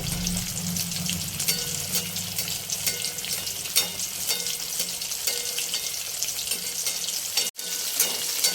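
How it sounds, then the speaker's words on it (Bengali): Chicken pieces for KFC-style crispy fried chicken frying in hot oil over medium-low flame, a steady, dense sizzle close by with occasional stirring clatter, no talk, and a brief drop-out near the end. "এবার তেলে দিয়ে দেবো। বেশি হাই ফ্লেমে ভাজবো না, মিডিয়াম টু লো ফ্লেমে ভেজে নিতে হবে।"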